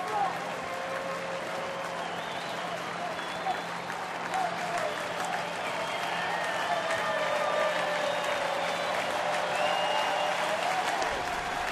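A big crowd of about 41,800 at a Detroit Tigers baseball game claps and cheers steadily in a stadium, a broad sustained wash of applause with an announcer talking over it.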